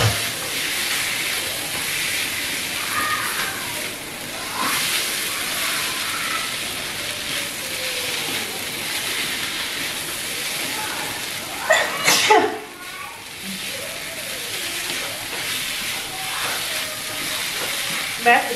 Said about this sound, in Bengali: এবার এটাকে ভালো করে একটুখানি কষিয়ে নেব, মাখিয়ে নেবো মশলাগুলো